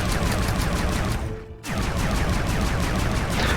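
Fire disc weapon in the video game Bionicle Heroes, loosing a loud, rapid stream of popping shots in a steady volley that breaks briefly in the middle and then resumes.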